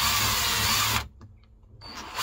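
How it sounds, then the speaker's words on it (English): A power drill whines loudly as it drives twin thread screws into wood, then stops abruptly after about a second, followed by a quiet pause and a brief restart at the end. "A twin thread screw cuts really quick."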